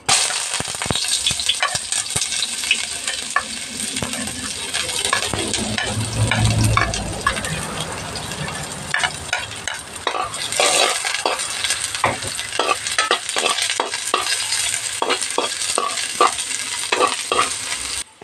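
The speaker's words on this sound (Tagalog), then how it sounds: "Gisa na natin yung pangsahog." Aromatics and squid sautéed in hot oil in a wok-style pan while cooking dried squid with vegetables, with a steady sizzle and frequent stirring scrapes and clinks of a utensil, continuous and close, with no talking.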